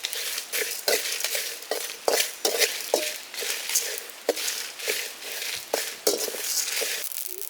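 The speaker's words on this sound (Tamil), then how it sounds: "இப்போ நம்ம மசாலா நல்லா வறுந்துட்டுருக்கு." Masala spices dry-roast in a pan for a village chicken curry, heard as repeated scraping and stirring strokes of a utensil against the pan in an irregular rhythm, with faint crackling between strokes and no talk.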